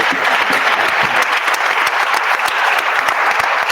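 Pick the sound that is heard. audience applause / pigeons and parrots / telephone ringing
audience applause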